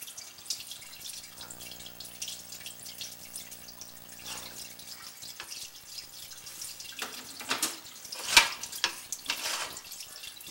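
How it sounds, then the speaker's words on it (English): Steady stream of water running through a residential sewer pipe during a sewer scope inspection, a continuous faint trickling and splashing that stays even throughout, with a brief sharper splash near the end and no voices. "we do run a steady stream of water throughout my inspections"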